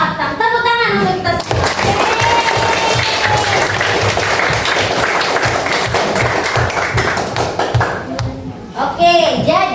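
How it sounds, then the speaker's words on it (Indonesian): Classroom applause for a lesson on the parts of a flower, a dense stretch of clapping that runs nearly the whole time, with children's voices and speech breaking in at the start and end. "Tepuk tangan untuk kita."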